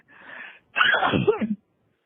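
A single person sneezes: a breathy intake followed by a loud, sharp burst with a trailing voiced exhale, close to the mic in an otherwise quiet room.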